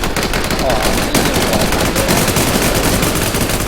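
Loud, dense gunfire from the online shooter game WarZ, continuous rapid bursts filling the whole stretch with a steady roar and no clear gaps.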